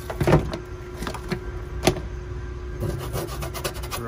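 Old sound-deadening material being rubbed off a 41-year-old 1981 car's panel makes soft, scratchy rasping strokes with a few sharper scrapes, close and fairly quiet.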